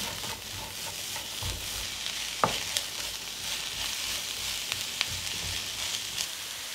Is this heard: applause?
no